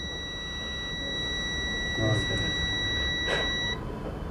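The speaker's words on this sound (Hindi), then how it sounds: "तो यहाँ बीप आ रहा है, मतलब फॉल्ट है इसमें।" A multimeter on its continuity range sounds a steady, high, unbroken beep while probing a short-circuited line on a mobile phone board, then cuts off; someone talks over it.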